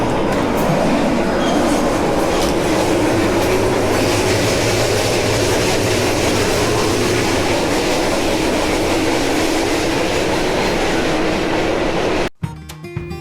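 Inside the moving Argo Semeru passenger train between Surabaya and Jakarta: a steady, loud rumble of wheels and carriage noise that continues throughout, then cuts off abruptly near the end.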